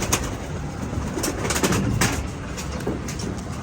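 Fancy pigeons of Ferozpuri type coo softly in a loft, a few close low burbling calls over faint background hiss, no talking.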